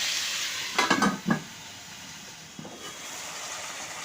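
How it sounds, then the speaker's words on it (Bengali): Chicken frying with onion in a pan gives a soft continuous sizzle, broken by a few short scraping stirs near the start and another brief one later. "আমি মাংসটা কিছুক্ষণ ভাজা করে নেব"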